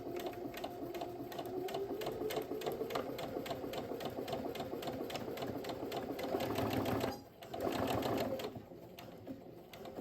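A sewing machine runs steadily, stitching a seam about 1 cm from the edge of a fabric zip pouch, its rapid even needle rhythm close and continuous, with a brief pause near the end before it resumes.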